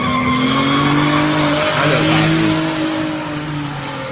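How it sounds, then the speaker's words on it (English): Loud, steady engine whine with sustained tonal drones and a brief squealing sweep midway, from racing boats in a video game, with no talking. "Look at this boat racing, guys. We're going boat racing."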